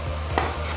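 Onions and tomatoes are sautéed in oil for plain masala rice, giving a soft, brief stir and low sizzle close by, with a single scrape of the spoon mid-way.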